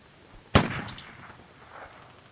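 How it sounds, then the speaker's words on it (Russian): A single sharp gunshot sound effect, loud and close, with a short decaying echo tail afterward and no voices. "стреляю"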